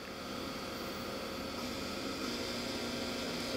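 Live tool spinning at 3600 RPM on a 2007 Daewoo Lynx 220LM CNC turning center, a steady even hum with hiss and no change in pitch, fairly quiet and continuous with no talking.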